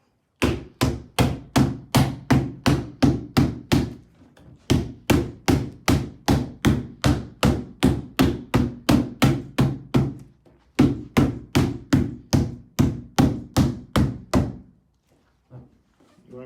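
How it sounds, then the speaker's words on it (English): A mallet taps the parts of a two-layer chick brooder together in steady, rapid runs of sharp, close thunks, pausing briefly between bursts. "Again, take your mallet."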